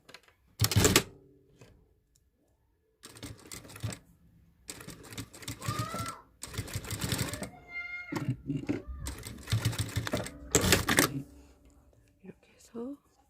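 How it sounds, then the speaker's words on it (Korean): A sewing machine topstitching the lining side of a fabric mask, running in short, fast rattling bursts separated by pauses, with a few soft handling noises between stitches. "이제 이 부분 상침해 줄 거예요."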